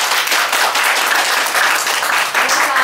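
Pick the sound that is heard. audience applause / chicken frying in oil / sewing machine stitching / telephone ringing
audience applause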